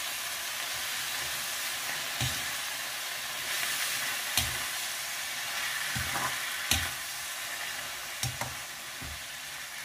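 Spinach being stirred with salt and turmeric in a hot pan for Sindhi-style garlic palak, a steady soft sizzle broken by a few louder scraping stirs at intervals, with no talking.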